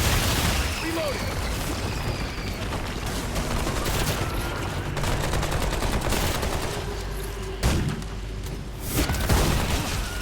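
Rapid automatic rifle fire from the video game Remnant 2, dense bursts rattling steadily across the whole stretch with a few heavier booming impacts near the end, loud and close with game effects beneath.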